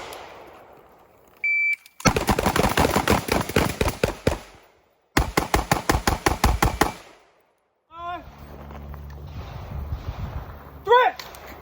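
Gunfire rings out at a tactical training course as a shooter engages three targets. Two loud rapid strings of shots are split by a short pause. Faint talk comes before the shots, and scattered clicks and chirps follow.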